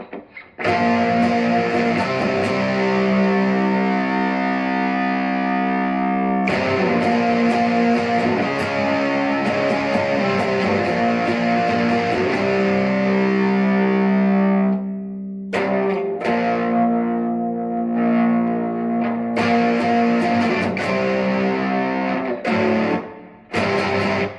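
Electric guitar played through a Behringer HM300 distortion pedal with the distortion turned most of the way down and the mids brought back, giving a steady, dark, sustained chordal tone with brief breaks and no talking.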